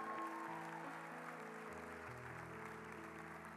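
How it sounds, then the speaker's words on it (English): A church congregation claps along under sustained organ or keyboard chords, the applause a soft, diffuse wash beneath the music, fairly quiet throughout. "Give the Lord a good clap on it."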